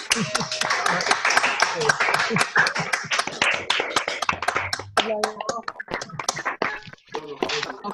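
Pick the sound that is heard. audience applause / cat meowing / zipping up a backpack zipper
audience applause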